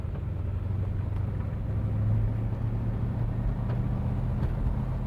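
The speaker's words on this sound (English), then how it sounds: "Great sounding exhaust on the car also. She's got a nice rumble to her, but she's not too loud." Low, steady exhaust rumble from a 1971 Chevrolet Corvette on the move, a deep even drone that swells slightly midway, moderately loud but not harsh, with no voices.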